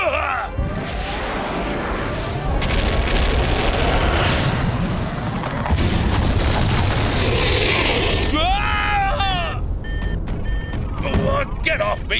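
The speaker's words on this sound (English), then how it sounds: "The factory's going to blow!" An animated factory blows up in a cartoon, a long loud roar of blasts and rumbling debris laced with whooshes and electronic effects, then sharp metallic beeps and zaps near the end.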